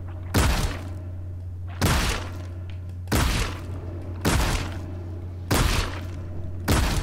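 Six heavy, booming shots from the video game Scorn fire at a steady, spaced rhythm over a constant low electronic hum, each with a short decaying tail.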